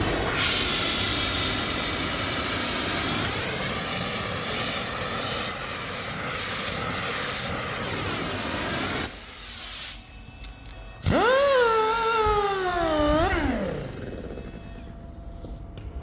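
A gas torch preheats a steel hydraulic cylinder tube from a CAT 24M motor grader before welding, giving a loud, steady roaring hiss that cuts out briefly and then resumes with a shifting whistling tone.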